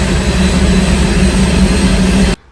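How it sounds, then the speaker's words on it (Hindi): A helicopter engine starting up for a Kedarnath pilgrimage flight in Uttarakhand. A loud, steady, droning roar with a low throb fills the air close by, then cuts off abruptly at the end. "बहुत ज़्यादा आवाज़ क्रिएट हो रही थी जब हेलीकॉप्टर चालू हो रहा था"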